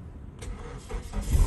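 A repaired car engine cranks and catches on one try, rumbling up into a low, steady running sound, close by.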